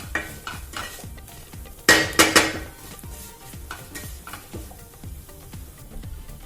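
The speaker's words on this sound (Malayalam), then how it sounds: "ഇതിന്റെ പച്ചമണം മാറുന്നത് വരെ നന്നായിട്ട് ഇളക്കി കൊടുത്തുകൊണ്ടിരിക്കുക" Spice powders for a coconut-based chicken curry stirred in a pan, with a rhythmic series of metal spoon scrapes and clinks, a burst of sharper clatter midway, and a faint sizzle underneath.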